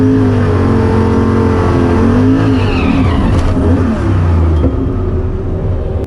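A turbocharged 363 Fox Body car launches and accelerates hard down a drag strip, loud and close, its engine pitch climbing steadily through the run before easing off near the end.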